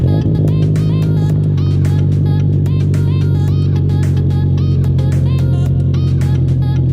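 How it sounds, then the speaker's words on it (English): A Subaru STI idles after a cold start, its engine putting out a steady, loud, close rumble that holds evenly throughout with no voices. "let's let the STI warm up. We'll get a cold start."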